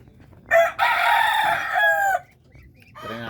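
Darag breeder chickens on a farm, a rooster crowing loudly and close with a long drawn-out call, followed by a short burst of clucking at the end.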